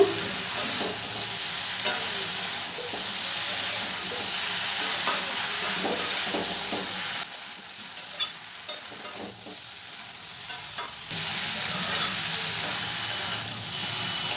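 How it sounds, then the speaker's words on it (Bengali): Fried jackfruit and potato are stirred with spices in a pan, the utensil scraping and stirring steadily through a soft continuous sizzle, with a brief quieter stretch before the frying resumes. "ইঁচড় আর আলুর সাথেও মশলাটাকে খুব ভালো করে মিশিয়ে নেব"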